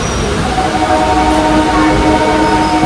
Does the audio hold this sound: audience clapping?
no